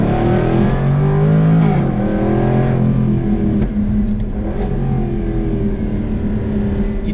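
Jaguar F-Type P575 R with a non-turbo engine revs hard and loud, a steady, dense roar that holds for several seconds with rising and falling pitch and no talking.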